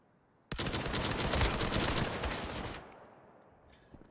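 Gunfire in a multiplayer war video game match: a sudden loud sustained burst of rapid shots lasting about two seconds, then fading to quiet with a few faint clicks.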